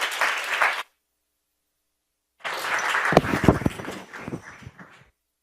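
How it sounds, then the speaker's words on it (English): Audience applause for Dr. Chang at an Asian American health forum: a short burst of clapping, a two-second silence, then a longer round of sharp, close claps that thins out and stops. "another round of applause for Dr."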